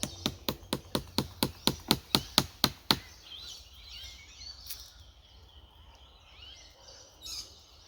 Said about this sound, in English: What I'm doing is I'm nailing it to the tree here.